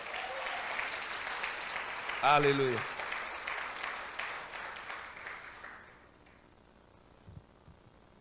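A church congregation at a conference service claps steadily, a full, roomy applause that a voice cuts into once with a sung exclamation before the clapping thins and fades out, leaving quiet.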